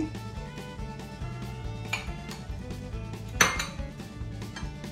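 Corn and grated onion being mixed in a metal bowl for cheese balls, heard as steady close scraping and clinking of a spoon against the bowl with a sharper clatter near the end, no talking.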